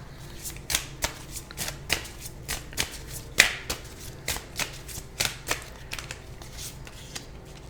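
A tarot deck is shuffled by hand in a steady run of about fifteen crisp riffling bursts, close and clear, with no talking.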